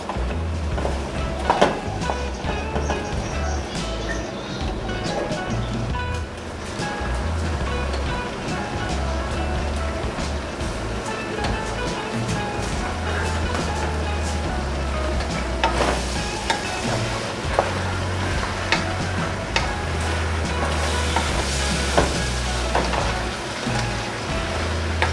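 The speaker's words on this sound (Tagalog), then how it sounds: "gisa lang po natin siya." Chopped pork offal sautéing in a pan for dinuguan, a steady close sizzle and frying hiss with stirring scrapes running throughout, with occasional faint talk beneath.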